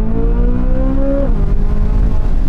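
Corvette Z06 with a naturally aspirated V8 revs hard on the brake for a launch from standstill, a loud rising engine note that drops as it pulls away, close and continuous without talk.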